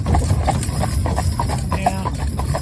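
Two working horses walking on a road while being prepared for a wedding, their hooves clip-clopping in a steady, unhurried rhythm, close and clear over a low background rumble.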